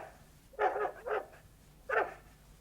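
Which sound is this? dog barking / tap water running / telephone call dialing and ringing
dog barking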